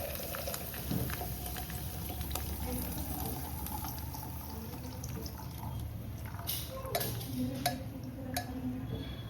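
Dairy cream cooks down to ghee in a home kitchen, giving a steady, close bubbling and simmering hiss with occasional light clinks of stirring throughout.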